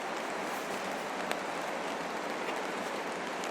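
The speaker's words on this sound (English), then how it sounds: "It's raining." Rain falls steadily on a tarp shelter at a stormy desert camp, a dense, even patter close overhead with no pauses, and a few slightly sharper drops stand out.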